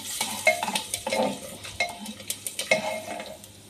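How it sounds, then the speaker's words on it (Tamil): Crushed cumin, black pepper and two dried red chillies fry in ghee in a pot for rasam rice, with a spoon stirring and clinking against the metal amid soft sizzling. "இந்த சீரா மிளகு நல்லா பொரிஞ்சிருது"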